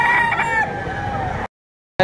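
A rooster at a poultry market in Lipa gives one loud, close crow lasting over a second, then cuts off abruptly into silence.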